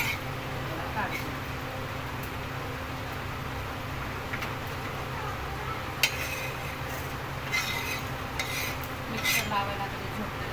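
Ingredients are dry-roasted in a pan on a home stove and stirred with scraping and clinking of utensil against metal, close and continuous, with a few sharper knocks and a low background hum.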